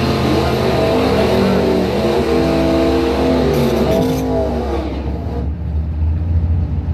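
Drag race launch between a 1972 Chevrolet Monte Carlo and a 1956 Chevy at a bracket points event, loud roaring V8 engines accelerating away with rising revs before fading into distance.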